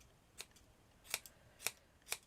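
Scissors snipping yarn for a knitted doll's hat, four crisp separate cuts spaced out over a couple of seconds, close and quiet with no talk.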